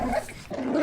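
A street dog gives a short, close growl and bark in a brief, loud burst that pauses and then resumes, with no talk over it.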